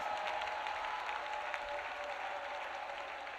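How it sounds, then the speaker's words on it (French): A church congregation at a prayer and intercession gathering claps loudly together in sustained applause for a few seconds. "Clap for Jesus Christ."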